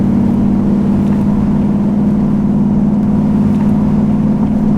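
A 1968 Pontiac Firebird muscle car engine accelerating under throttle, a loud, steady low-pitched drone and rumble throughout, close, with no voices.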